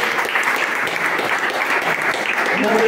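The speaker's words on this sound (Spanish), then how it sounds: "¿Cuánto le dan un aplauso al Señor?" Congregation in a church applauding together, dense sustained clapping from many hands at steady loudness, with a voice faintly audible near the end.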